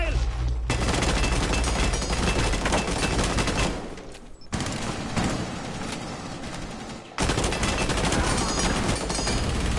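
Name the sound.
gunfire in Rainbow Six Siege video game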